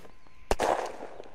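A single sharp gunshot in the game Unturned cracks out mid-clip, followed by a short echoing tail and faint rattling, heard against a quiet, muffled background.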